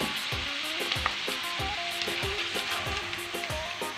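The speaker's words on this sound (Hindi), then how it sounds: "और इसके साथ ही हम इसके अंदर गोभी ऐड करेंगे, उसको भी हल्का सा फ्राई कर लेंगे।" Cabbage for a mixed vegetable dish frying in a pan gives off a steady close sizzle, broken by rhythmic scraping strokes of a stirring spoon against the metal.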